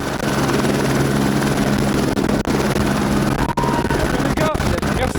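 A drone flies overhead with a loud, continuous whirring rotor drone that fills the whole stretch. A couple of brief dips break the sound, and some talk may sit faintly underneath.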